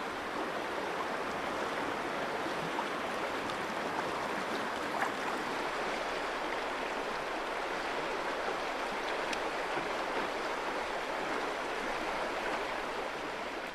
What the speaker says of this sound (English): The last mile or so, the river drops suddenly, producing many riffles and Class 1 rapids.